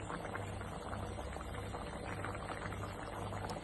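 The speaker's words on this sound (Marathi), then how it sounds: "आता हे तिसरे चांगले उकळले" A pot of Malvani clam masala curry simmers at a steady boil, with a continuous bubbling and low churning under a constant hum, no voices.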